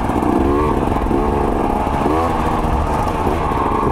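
A KTM XC-W dirt bike engine runs close and loud throughout, a continuous buzzing two-stroke-style drone with small revs and rattly clatter, no speech over it.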